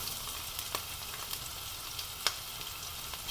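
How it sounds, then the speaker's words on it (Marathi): Chopped onion sizzles steadily in hot oil for an eggplant and potato curry, a continuous close frying hiss broken by a few sharper crackles, with no talking. "छान चुरचुरतोय कांदा, म्हणजे छान तेल तापलेलं आहे."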